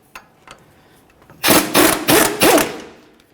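Ratchet or impact tool spinning out the 15 mm caliper bracket mounting bolts on a 2001–2005 Ford Explorer Sport Trac. Four loud, rapid whirring bursts come in close succession after a few light clicks.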